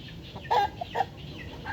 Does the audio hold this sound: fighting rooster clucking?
yes